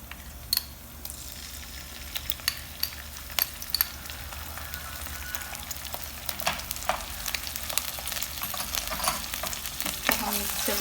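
Chopped garlic and ginger fry in two tablespoons of oil in a wok for chili chicken, giving a steady sizzle that builds slightly over time, with sharp spatula scrapes and clinks scattered throughout, close and alone.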